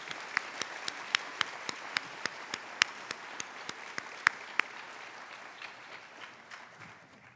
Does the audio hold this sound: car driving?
no